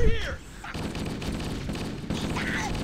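Rapid automatic gunfire from Halo: Combat Evolved, a dense continuous stream of shots with game effects and tonal sweeps layered over it, loud and close, with no talking.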